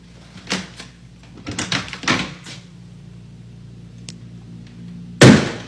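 A door swinging open fast indoors, with a few soft knocks and rattles, then a sharp, loud bang near the end as it hits.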